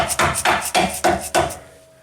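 Six quick, evenly spaced taps with a plastic hammer seating a new ball joint on a Nissan Rogue, each a crisp knock with a short ring, then quiet.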